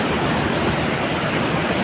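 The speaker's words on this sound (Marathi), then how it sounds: "खूप मस्त धबधबे आहेत" Steady broadband roar of the Nalkund waterfall near Buldhana, a continuous rushing wash of falling water filling the whole clip at close range, with no voices.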